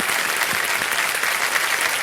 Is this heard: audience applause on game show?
yes